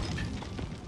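A grenade blast in the first-person shooter Call of Duty: Modern Warfare, a dense, loud, rumbling wash of noise that fills the whole brief moment without a clean sharp onset.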